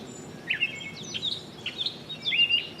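A songbird sings short, varied warbling phrases, some squeaky and some harsher, separated by brief pauses against a quiet outdoor background.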